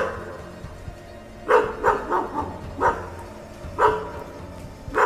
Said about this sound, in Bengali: কখনো ঘুম জড়ানো গলায় কুকুরগুলো ডেকেই চুপ করে যাচ্ছে